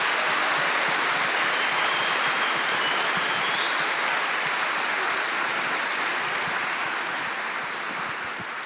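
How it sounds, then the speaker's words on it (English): A large audience at a hospital rally in Dunedin Town Hall gives the panellists a sustained round of applause, dense and even, tapering slightly toward the end. "please give a big round of applause for all of our panellists here tonight"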